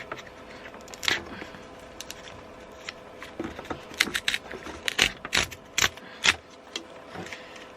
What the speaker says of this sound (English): Comes in this little brown other envelope that you need to open.